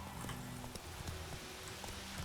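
Roach, the horse in The Witcher 3, walks on a game path with an even clip-clop of hooves, soft and steady beneath a faint background bed.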